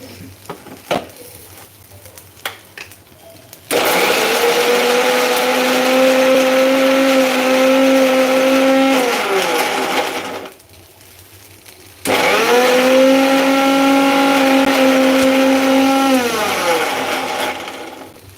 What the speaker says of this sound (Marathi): आपण बारीक करून घेऊ मिक्सरमध्ये